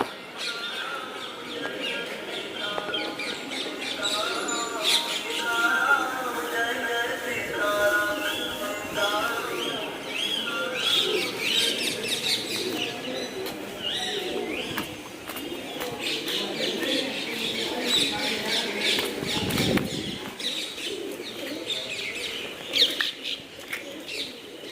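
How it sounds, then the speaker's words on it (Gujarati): Many pigeons coo and chirp around a Hanuman temple at Machchhu Dam near Morbi, a steady layered chorus with occasional wing flaps under faint background voices. "કબૂતરા ઘણા બધા છે ઉપર જોવો તમે"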